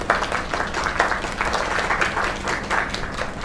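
Video game crowd applause, a dense patter of many hands clapping at once that rises and falls slightly and carries on without pause.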